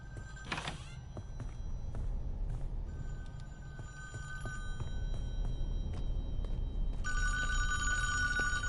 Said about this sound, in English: Then you'll hear a phone ring, and go back downstairs and pick up the phone.